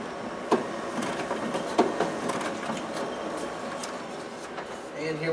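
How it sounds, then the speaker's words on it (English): A Ricoh SP5200 copier's document feeder pulls test copies through, giving a steady mechanical whir with two sharp clacks early on, heard close and alone. "there we have our document feeder working"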